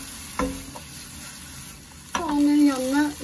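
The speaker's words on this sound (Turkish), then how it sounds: "Şimdi soğanları sotelemeye başlıyorum" Onions and finely chopped green peppers sautéing in olive oil in a pan for imam bayıldı, with a stirring scrape early on, then a sudden louder burst of sizzling as ingredients hit the hot pan, continuing steadily.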